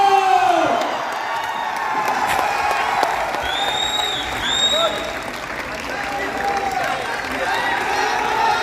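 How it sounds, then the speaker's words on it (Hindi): Audience applause and cheering for a speaker called to the stage at an event in Patna, steady crowd noise with whoops and a few high whistles over sustained clapping throughout. "एक बार जोरदार तालियां आप सब गुरुजी के लिए।"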